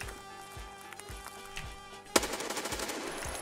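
Gunfire in the video game Escape From Tarkov: a series of sharp shots, spaced at first, then a louder close burst followed by quicker, rattling reports.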